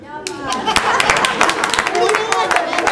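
Audience clapping at a Hindi poetry recital in Milpitas, California, with scattered claps swelling into steady applause in a hall while a speaker's voice continues over it.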